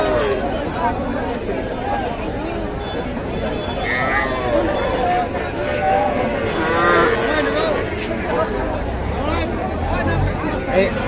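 Young calves around three to four months old moo repeatedly at a busy cattle market, several drawn-out calls rising over a constant crowd babble and nearby chatter.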